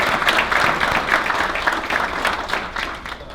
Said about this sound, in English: So I think we all deserve a round of applause on that.